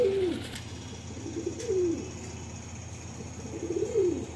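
Pigeons on a pigeon farm coo softly in repeated low calls, several rounds spaced over a few seconds against a quiet background hum, fairly faint and with no voices.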